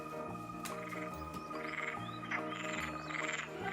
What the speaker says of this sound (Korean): 헤이 카카오, 풀벌레 소리 들려줘.